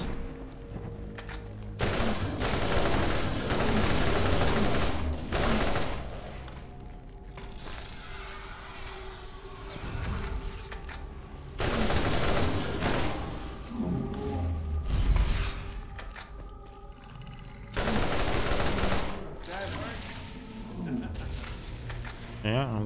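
Gunfire in Borderlands as larva crabs are shot, with bursts of rapid shots and thumping impacts that come in loud waves, mixed with game sounds and a player talking in between.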